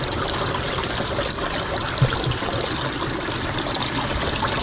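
Floodwater pours steadily into a sinking car in a river, a continuous close rushing trickle with one brief thud partway through.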